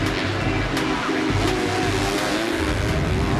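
AMA Pro Motocross 450 and 250 bikes race past, engines revving hard and continuously in a loud, dense roar with rising and falling throttle.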